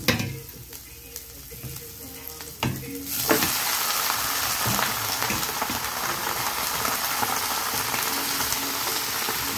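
Pechay (bok choy) is dropped into a hot pan in a home kitchen and breaks into a loud, steady sizzle. A few clinks and quieter frying come first.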